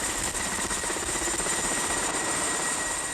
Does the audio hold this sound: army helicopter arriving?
yes